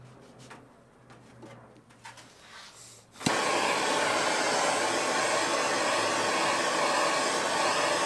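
A heat gun shrinks heat-shrink tubing over a wire joint on a vintage car battery charger clamp, switching on abruptly with a loud, steady blowing roar after a quiet stretch where pigeons coo faintly in the background.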